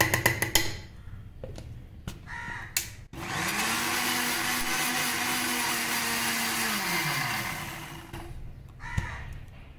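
A mixer grinder grinding whole green moong dal whirs loudly for about five seconds, starting abruptly and winding down, with short bursts of grinding and clatter before and after.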